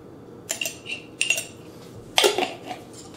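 A utensil scrapes and clinks against a bowl while all-purpose flour and salt are stirred together, in a few short bursts of scraping with quiet gaps between and no voices.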